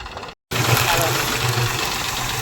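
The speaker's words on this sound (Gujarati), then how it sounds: "બીજમાં ટેક્ટર લઈને આવે છે મહળવા" A loud tractor engine idles steadily with a low rumbling throb after a brief cut at the start, on a pigeon pea threshing floor, and voices are heard over it.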